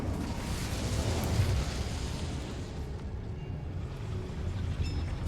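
The Incendio fire spell from Hogwarts Legacy bursts out with a low whooshing roar that flares up and then fades into a dull rumble.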